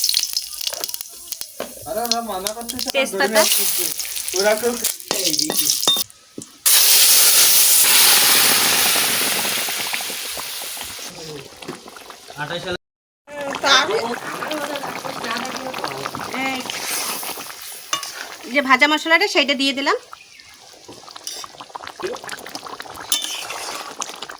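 Vegetables and whole cumin sizzle in hot oil with a steady hiss and crackle, a loud burst as they hit the pan, while someone talks over much of it and utensils clink now and then.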